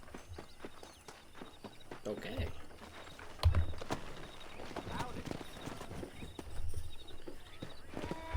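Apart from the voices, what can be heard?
horse hooves clip-clop in video game Red Dead Redemption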